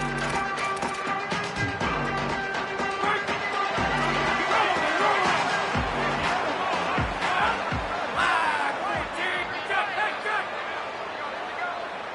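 Stadium crowd at a college football game roars and cheers after a punt return, a dense, sustained wall of noise with a commentator talking over it throughout.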